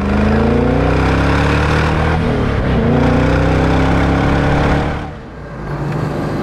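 A supercharged Corvette engine hums loudly and continuously from inside the car while driving, with a rising pitch, then briefly eases off before picking up again.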